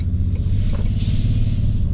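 A 2025 Toyota Tundra 1794 pickup truck drives along with a steady low engine and road rumble, continuous and fairly loud from inside the cab, with no voices.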